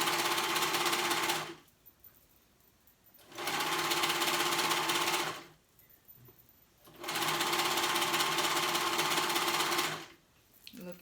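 A sewing machine stitches joggers in three long, loud, steady runs of rapid needle hum, split by short quiet pauses, close to the listener.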